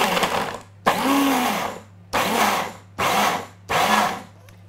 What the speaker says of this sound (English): we're going to use the blender, pulse a few times until we make a nice fine dust out of the Brazil nuts